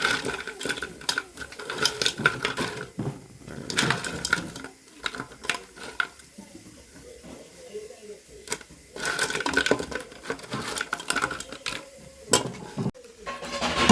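Mud crabs being rinsed for curry clatter and knock in a container with splashing water, bursts of scraping rattles coming in uneven waves, with quieter stretches in between.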